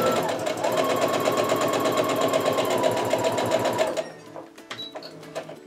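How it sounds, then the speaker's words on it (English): A sewing machine stitches a quilt block in a steady, loud run of rapid needle strokes for about four seconds, then stops and leaves quiet fabric handling and light clicks. "I'm gonna finish stitching."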